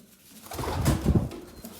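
Pigeons cooing close by, a couple of low throaty coos in quick succession with light bird rustling and no talk.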